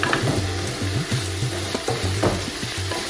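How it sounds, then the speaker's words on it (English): Spices and green chillies frying with a big spoonful of tomato puree in a pan, a steady close sizzle broken by soft scraping stirs, continuous and fairly loud with no talk. "As the spice is frying"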